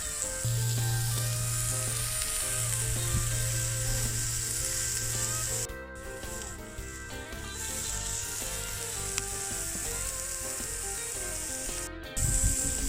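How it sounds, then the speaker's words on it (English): A beef burger patty fries in its own fat with no added oil, cooked outdoors by a lake, giving a loud, continuous close sizzle with a few clicks and knocks of utensils. "There is no need to add oil because the fats inside the meat will itself help the patty to cook it."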